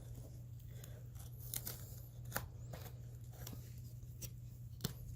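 Scissors or a blade snips and tears through damaged carpet close by in a quiet room, producing sparse short crisp cuts over a low steady hum.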